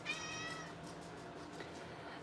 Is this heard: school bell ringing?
no